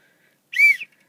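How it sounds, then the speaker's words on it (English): A small, normal-size referee's whistle at an amateur football match gives one short, shrill blast, close and clear against near silence. "It's a normal size whistle. Just a small one."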